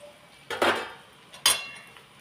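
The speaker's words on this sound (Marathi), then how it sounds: "पोहे घालून थोडंसं हलवून घ्यायचं." Flattened rice (poha) is stirred in a pan over low heat with curry leaves for a spicy chivda. Two short, close scraping clinks of a utensil against the pan sound alone, separated by about a second of quiet.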